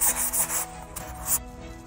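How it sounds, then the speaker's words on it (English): Close, steady rubbing and rasping of sandpaper taking the paint off an old portrait painting, in a few rhythmic strokes, quiet and without talk. "This isn't the first painting that I've sanded a face off of."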